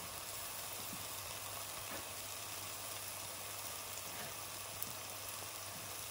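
Green chillies, whole and sliced, sizzle in a pan for a British Indian restaurant-style lobster and king prawn garlic chilli, a steady close crackle with a low hum running under it and no talking.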